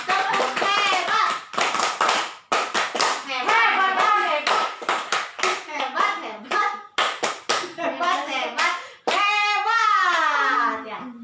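Training-course participants perform a rhythmic clapping chant together, sharp synchronized hand claps in bursts alternating with group voices chanting words, close and lively, with a rising sung cheer at the end.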